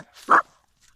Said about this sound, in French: C'était mon chien.